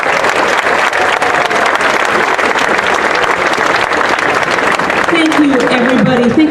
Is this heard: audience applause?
yes